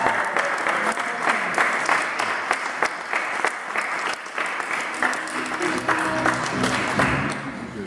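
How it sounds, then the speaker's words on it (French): Church congregation at a baptism breaking into sustained applause to acclaim Jesus, a thick continuous roar of many hands clapping with a few faint voices underneath. "Est-ce qu'on peut acclamer Jésus?"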